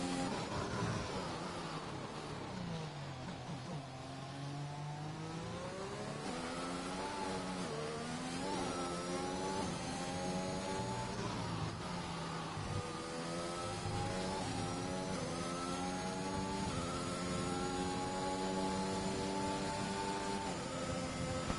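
Howling engine of a McLaren Formula 1 car in F1 2021 at the Chinese Grand Prix, rising and falling through gear changes as it laps, loud and continuous throughout with no talk.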